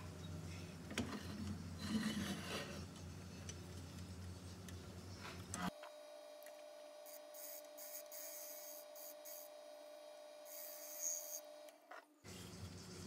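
A wood lathe turns a wide-rimmed bowl as a tool trims away the lip, giving a rough, rasping cut that gives way to a steady, close machine whine with faint ticking.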